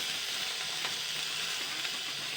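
Raw tomato and onion added to potatoes frying in a pan for a leafy greens dish, giving a steady, close, moderately loud sizzle with faint stirring and no voices.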